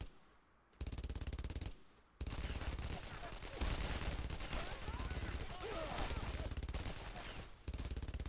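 An enemy machine gun in a combat video game fires in long, loud, rapid bursts, with brief pauses between the volleys and heavy gunfire filling most of the stretch.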